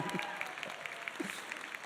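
Faint, distant applause from the audience at a fan expo panel with The Office cast, a thin wash of scattered clapping and crowd murmur lasting under two seconds.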